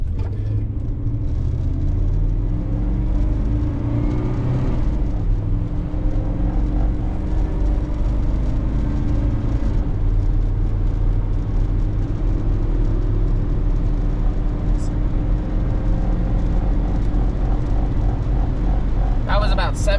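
A 1970 Chevrolet C10 pickup truck accelerating through a 0 to 60 run, a steady low engine rumble and drivetrain whir filling the cab from start to finish.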